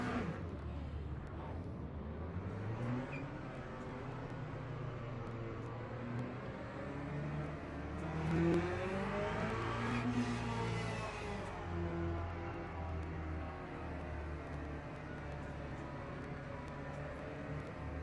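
Race cars on the formation lap in Project Motor Racing, a BMW day event: a continuous layered engine drone with gear-changing rev sweeps and a mid-clip swell, fairly quiet, no talking.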